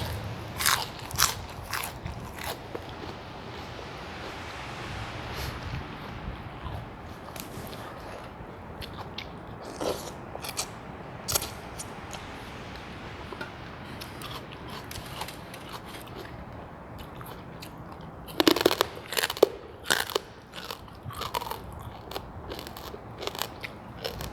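Someone chews crunchy vegetables and bamboo shoots with a spicy Thai papaya salad, producing close, steady biting crunches and wet crackles throughout, with a louder burst of crunching near the end.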